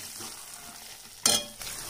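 Potatoes tipped into a pan of frying cashew gravy give a sudden loud sizzling burst with a stirring scrape, easing back to a steady low simmering hiss, with no voices.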